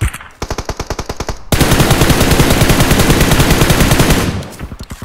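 Automatic gunfire from PUBG Mobile, loud and close: a rapid burst of evenly spaced shots, then a dense sustained volley for about three seconds, ending with another short run of shots.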